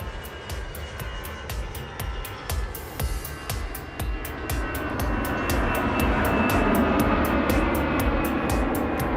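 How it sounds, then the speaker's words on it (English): An airplane approaches, its engine drone swelling steadily from moderate to loud and holding a broad roar, with a regular rapid ticking pulse over it. "The plane arrived and more inhabitants of the big red house showed up."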